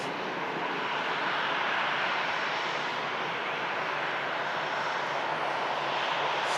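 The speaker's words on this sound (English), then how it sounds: "Stunning departure from the Virgin Atlantic." A Virgin Atlantic airliner takes off from Manchester Airport, its jet engines producing a dense, loud, steady roar that fills the whole stretch without a break.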